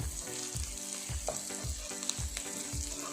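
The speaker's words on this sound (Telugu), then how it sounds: "ఈ ఆనియన్స్ అనేవి లైట్గా ఫ్రై అవ్వాలి." Onions fry in oil for a prawn masala curry, a close continuous sizzle with regular stirring knocks about every half second and no voices.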